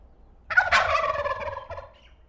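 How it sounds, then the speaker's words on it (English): A turkey lets out a single loud rattling gobble, close by and alone, fading out after about a second. "Turkey."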